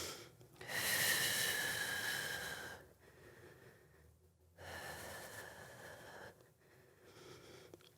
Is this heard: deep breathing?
yes